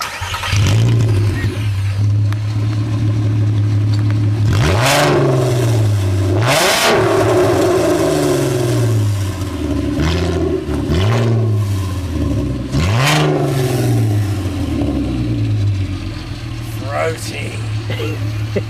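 A Mazda MX5 with a newly fitted exhaust idles and then revs repeatedly, giving four or five sharp throttle blips that climb and fall back over a steady idle, loud and close.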